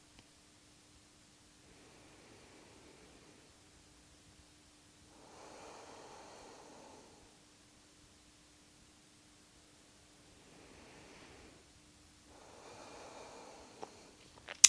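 Slow, deep breaths during a morning yoga and breathwork session: two long airy inhale-exhale cycles, soft and close, separated by quiet pauses, with no talking.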